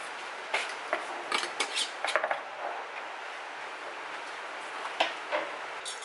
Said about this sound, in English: I'm just adding them right to my canner.